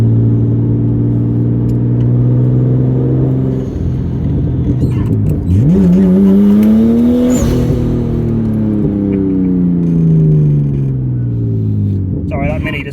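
A loud car engine revs hard close by, its pitch climbing and falling through gear changes in a sustained roar, with a Mini's engine also present and talk mixed in.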